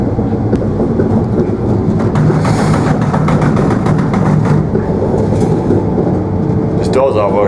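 Steady low rumble and rattle from inside a moving train on the way to Exeter, constant engine and rail noise throughout, with a sharper clatter near the end.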